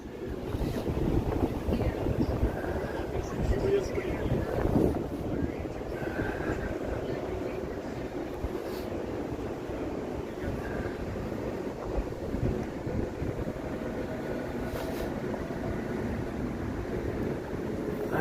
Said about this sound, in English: The wind is feeling more and more bitter by the minute here.